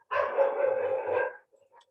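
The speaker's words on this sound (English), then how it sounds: "These dogs." A dog gives one drawn-out, yelping bark or howl lasting over a second, fairly close, followed by a faint brief yip.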